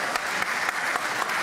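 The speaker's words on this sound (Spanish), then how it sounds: "Un aplauso grande, ¿no es cierto?" Steady applause from a crowd in the stands at a formal chamber session honouring a seniors' club, with a dense, even patter of many hands clapping.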